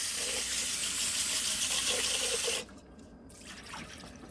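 Tap water runs steadily into a bowl of rice being rinsed, a bright continuous splashing stream that cuts off sharply partway through, leaving quieter drips and soft water movement.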